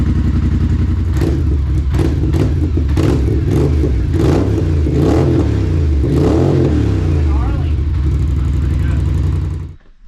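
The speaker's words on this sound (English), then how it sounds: "Polaris has that motor sound" A Polaris Scrambler ATV fitted with an EPI clutch kit and dual HMF performance exhaust revs loudly close behind. Blips rise and fall over a rumbling idle, and the sound cuts off at the end.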